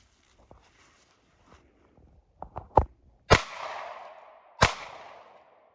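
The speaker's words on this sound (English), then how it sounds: "Next, we got some 115 grain Blazer 9mm. Shooting out of my Hellcat Pro," Two loud 9mm pistol shots of 115 grain Blazer ammunition fired from a Springfield Hellcat Pro at an outdoor range, sharp cracks about a second apart, each followed by a rolling echo, after a few soft handling clicks.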